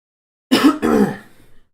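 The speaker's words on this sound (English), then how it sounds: "Sorry for the coughing." One person nearby gives a short, harsh cough-like throat clearing in two quick bursts, loud and alone against silence.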